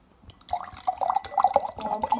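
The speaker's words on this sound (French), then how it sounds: "On remplit d'eau du robinet." Tap water is poured into a dirty drinking glass, a close, bubbling, gurgling trickle of liquid that rises in pitch as the glass fills, with no voices.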